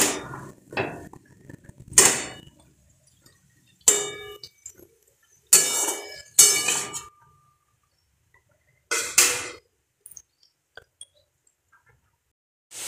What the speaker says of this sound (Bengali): ভালো করে নাড়াচাড়া করে নিতে হবে।